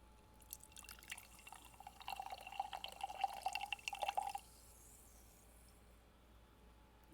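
Dr Pepper soda fizzing in a mug after being poured, a faint crackle of tiny bubbles popping in a quiet room, building over a few seconds and then stopping abruptly.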